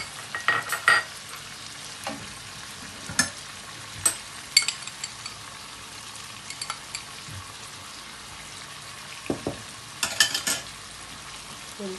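Chicken karahi sizzles in a pan with tomatoes and green chillies as a utensil stirs, giving a soft continuous frying hiss broken by scattered scraping and clinking strokes, close up with no talking.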